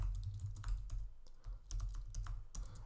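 Rapid, uneven clatter of keys on a computer keyboard while code is typed for a Neovim plugin, close and clear with no voices.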